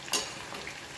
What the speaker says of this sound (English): fry them till you get little brown color